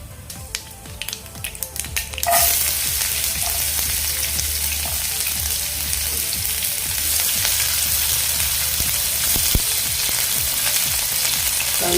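Chopped onion dropped into hot oil with spluttered mustard seeds and cumin, for a pea-pod sabzi, hits with a sudden loud, steady sizzle that holds evenly, after a few brief crackles and clinks at the start.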